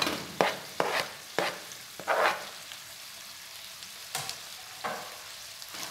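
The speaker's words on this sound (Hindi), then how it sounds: "प्याज और हरी मिर्चें डालकर मैंने कीमे को अच्छी तरह फ्राई कर लिया है" Beef mince frying with onions and green chillies in a pan, a continuous close sizzle broken by several sharp stirring scrapes, loud at first and then easing.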